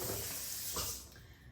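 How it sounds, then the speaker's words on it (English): Tap water runs into glass bowls in a kitchen sink, a close, steady splashing hiss that eases off near the end. "I fill them up a little less than half because I don't want the water to overflow when I put the flower in"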